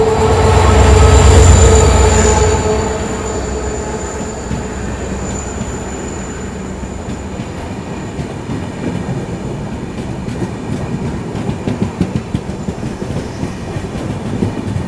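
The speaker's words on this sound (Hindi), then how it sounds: "ये आ गई डीजल लोकोमोटिव के साथ गरीब रथ एक्सप्रेस" The Garib Rath Express with LHB coaches pulls in behind a diesel locomotive, loud and close, a deep rumble giving way to rolling wheel clatter and faint squeals that continue throughout.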